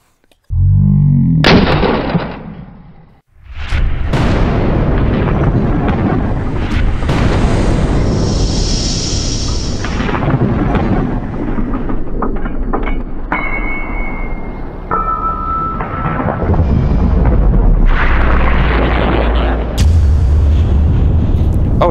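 A .223 full metal jacket rifle round fired into a ballistic gel block at a test range: a sharp, loud report at the start, then a booming roar that decays through the rest of the stretch.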